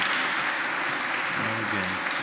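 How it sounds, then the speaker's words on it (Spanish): A congregation at a Spanish-language Sunday Mass applauds couples celebrating April anniversaries, a steady wash of clapping at even volume that fills the whole moment. "Un aplauso para ustedes dos, tres, que celebran su aniversario en abril."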